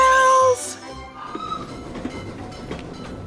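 A candy cane toy train sound effect for a preschool Christmas show: a bright, whistle-like tone lasting half a second gives way to a softer, rattling clatter that rolls on quietly to the end.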